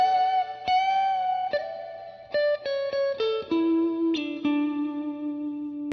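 Plucked guitar notes ring out one after another, each swelling with a lush reverb tail that blurs into the next, steady and fairly loud with no voices.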